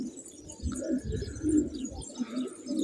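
Pigeons coo steadily in a loft of about seventy male pigeons mixed with flying birds, with low, throaty, rolling calls close by and faint chirps over a continuous background hum.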